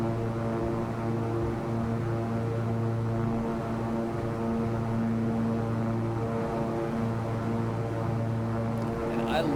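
An aircraft engine in the X-Plane 11 flight simulator drones steadily and loudly with a constant propeller hum, unbroken throughout, while a faint voice may murmur underneath.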